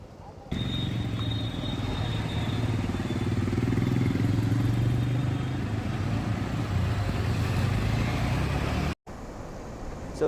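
Motorcycle engines of about ten bikes rumble in a low, steady drone close by as riders set off, holding strong throughout before cutting out briefly near the end.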